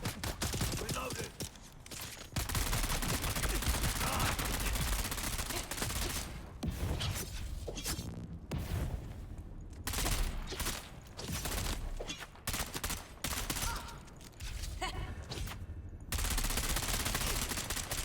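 Gunfire in the video game Dune Awakening rattles out in dense bursts of rapid automatic shots, separated by brief pauses and continuing until the weapon runs dry.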